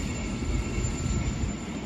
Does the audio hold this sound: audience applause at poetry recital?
no